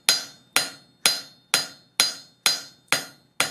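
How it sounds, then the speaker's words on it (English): A cross peen hammer strikes metal eight times in an even, steady rhythm while forging a leaf, each blow a bright ringing clang that quickly fades, with no talking. "Right now we're still using the cross peen as a hammer"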